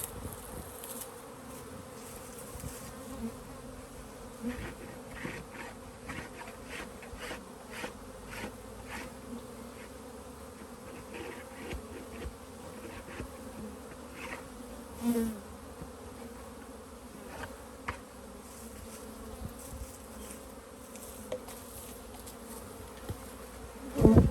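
Honey bees buzz densely around an opened hive during a beekeeper's inspection, a steady close hum with passing louder individual bees and occasional small knocks of equipment.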